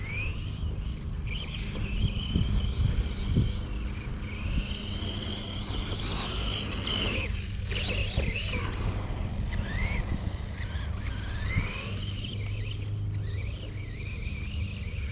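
A small ride-on mower engine labours in tall grass, its low rumbling drone bogging down and straining, with wind noise and some rustling mixed in throughout.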